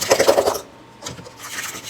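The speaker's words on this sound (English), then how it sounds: "take a fork. You could also use a potato masher, and then mash my bananas" Ripe bananas mashed with a fork in a bowl for banana bread muffins, giving close, soft scraping and squishing strokes, a dense burst at first, a brief pause and then lighter rubbing.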